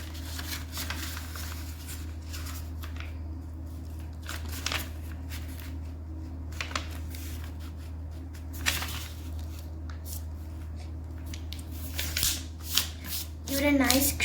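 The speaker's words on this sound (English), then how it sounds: "Take a square piece of paper or an origami paper if you have it and fold the paper in half." A square sheet of origami paper being folded and creased by hand, giving soft papery rustles and crisp crease taps scattered over a steady low hum, busier toward the end.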